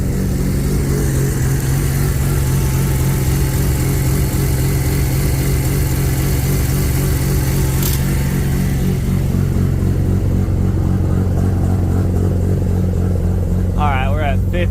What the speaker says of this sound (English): It is idled up a bit because I just cold started it.